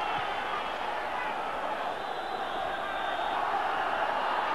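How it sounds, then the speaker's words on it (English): A big, noisy football crowd roars at Tynecastle stadium during an Edinburgh derby between Hearts and Hibs in 1991, a steady dense wash of cheering and chanting throughout. "the match gets underway in front of a big noisy crowd here at Tynecastle"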